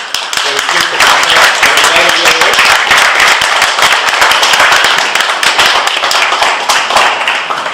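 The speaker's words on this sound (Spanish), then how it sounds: "Si le podemos dar un aplauso." Loud, steady applause from a conference audience sending off a departing guest lecturer, dense clapping filling the whole stretch with faint voices mixed in underneath.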